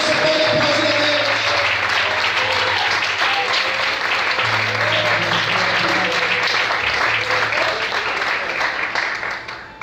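An evening church congregation applauds steadily, dense loud clapping from many people that continues without a break over soft sustained music and faint voices, then tails off at the very end.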